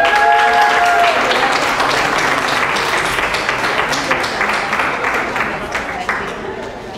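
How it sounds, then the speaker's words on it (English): An audience at a college unity festival and art showcase applauds a performer, a dense burst of clapping and cheering that gradually thins out, with a voice briefly heard at the start. "Join me in giving him a round of applause."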